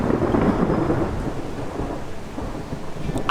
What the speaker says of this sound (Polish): Ale burza!